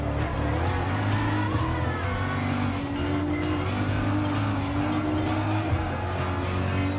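BMW M6 race cars lapping Circuit de Barcelona-Catalunya in Gran Turismo Sport, a loud, continuous engine drone with layered harmonics and occasional tyre squeal, steady and unbroken, with no talking.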